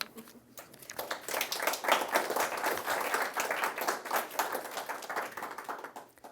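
At a creative writing reading, an audience claps steadily for several seconds. The applause is dense and moderately loud, rises quickly, holds, and tapers slightly, with no voices over it.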